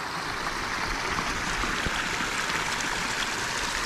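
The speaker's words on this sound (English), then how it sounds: "We got a stream running down through here." Water running down a hiking trail on the Appalachian Trail in Virginia, a steady broadband rush and trickle that stays loud and continuous throughout, with no voices over it.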